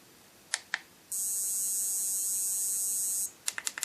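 Remote dog training collar emitting a steady high electronic tone at level 40, one continuous beep of about two seconds, with soft button clicks before and after it and no voices.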